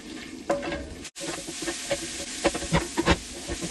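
Tomato paste is stirred into hot sizzling oil in a pan, giving a crackling fry with scraping spoon strokes in irregular bursts, close and moderately loud, with no talk.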